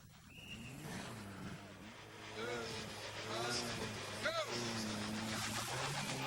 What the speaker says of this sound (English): off on the course in the Mazda